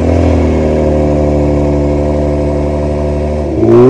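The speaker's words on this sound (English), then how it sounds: "Here's the exhaust note on a 2021 Kia Stinger GT." A loud, deep exhaust drone holds steady from a nearby 2021 Kia Stinger GT engine, then swells sharply as it revs up at the end.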